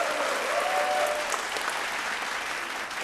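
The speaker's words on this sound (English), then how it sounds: "Final round of applause, please, for all our sponsors and production partners." A studio audience at a televised vocal competition applauds the sponsors with dense, sustained clapping and a few cheers, filling the whole moment at moderate level before tapering slightly at the end.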